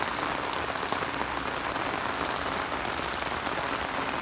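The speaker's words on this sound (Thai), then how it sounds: "ตอนนี้อำเภอหลังสวนจังหวัดชุมพรฝนได้ตกหนักติดต่อกันมาเป็นเวลา 2วันนะครับ" Heavy rain pours steadily onto a durian orchard in Lang Suan, Chumphon, a dense, unbroken hiss of drops hitting leaves and ground with no voices.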